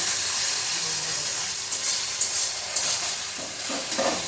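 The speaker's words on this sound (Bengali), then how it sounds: "পেঁয়াজটা একটু ভাজা হয়ে নিই," Onion paste sizzles in a pan for prawn malai curry while a utensil stirs it, a steady frying hiss broken by a few scraping strokes toward the end, with no one talking.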